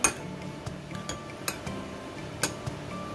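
Metal utensil clinks and scrapes against a pan at an irregular pace, close by, mixing tuna and bitter melon with sweet soy sauce, with soft stirring noises between the sharper taps.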